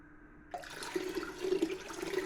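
Liquid beef stock pours over vegetables into a pan with a sudden onset, a continuous close rushing splash and gurgle with uneven surges, and no talking.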